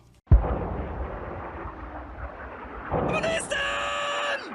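A grenade goes off during grenade training in the Squad 44 video game: a sharp, heavy blast followed by a long rumbling decay, then a different synthetic tone layer comes in near the end.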